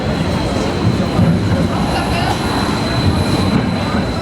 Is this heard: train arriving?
yes